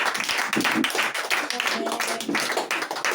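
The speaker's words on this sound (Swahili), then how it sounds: "Mpigieni makofi." A group of people, including students and teachers in a classroom, claps for someone in a dense burst of quick overlapping claps, with voices mixed in.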